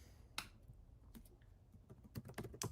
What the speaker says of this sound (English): Eric typing like a freak